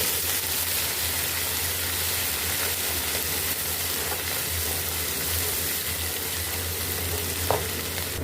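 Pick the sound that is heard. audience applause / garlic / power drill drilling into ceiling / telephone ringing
garlic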